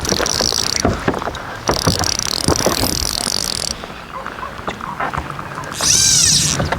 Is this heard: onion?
no